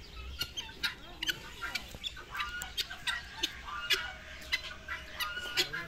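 A turkey and chickens call from a farm enclosure: a busy, uneven run of clucks, gobbles and squawks, some close and sharp, others fainter behind them.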